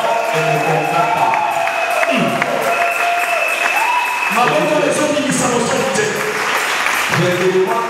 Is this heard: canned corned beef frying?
no